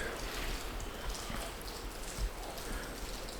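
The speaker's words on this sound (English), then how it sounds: "It's raining out." Steady rain falls outside a barndominium, an even wash of patter heard from indoors with no voices over it.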